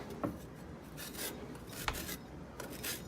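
A Périgord black truffle is rasped against a cheese grater in a few short, soft scraping strokes, close and quiet with no talking.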